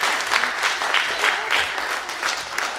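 Bluegrass audience applauding a photographer, a full, even patter of many hands with slight rhythmic swells throughout, close and steady.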